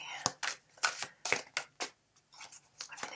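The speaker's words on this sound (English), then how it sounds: "So I'm going to give these cards a good shuffle." Stiff tarot cards being shuffled in a series of crisp, riffling bursts, close by, with short pauses between each flurry.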